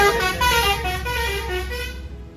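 A bus horn blares in a long, loud, sustained honk close by on a busy street, with traffic rumbling underneath.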